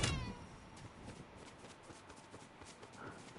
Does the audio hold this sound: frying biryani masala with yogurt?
no